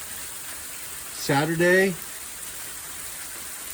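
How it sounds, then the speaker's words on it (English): Hail falls outside in a steady, even hiss of pattering that runs throughout, while a voice briefly speaks one word partway through. "And it's hailing. And it's still hailing."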